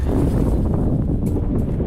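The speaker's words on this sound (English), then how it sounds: "It's a bit windy," Loud wind buffets the microphone at a flat tent site just off a glacier, a constant low rumbling roar with gusty fluctuations and no talking.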